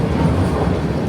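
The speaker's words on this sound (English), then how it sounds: "I go jump on the train." A Toronto subway train rumbles steadily for a moment, a continuous low droning roar heard from on board or close by, with no talking.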